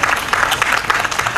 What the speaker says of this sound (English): So give yourself a big round of applause